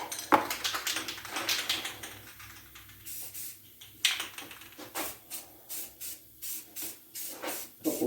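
White rattle-can spray paint on the rims and roll bar of a Triumph Spitfire: an early longer hiss, then a rhythmic run of short sharp bursts of spray, close and fairly quiet with pauses between.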